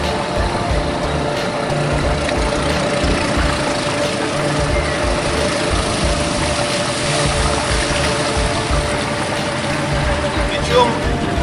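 An outboard motor on a Boathouse Sea Fisher 410 inflatable catamaran boat running at mid revs, giving a loud, steady engine drone with water rush underneath, and a voice talking over it.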